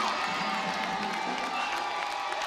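Fans at a boys high school basketball game cheering for a player, a steady crowd roar with shouts and whoops, fairly distant and even throughout.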